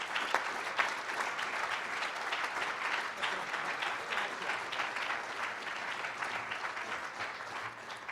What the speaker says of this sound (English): let's have a big round of applause for our Capitan here at the Freedom Law School, Mr. Peymon Mottahedeh.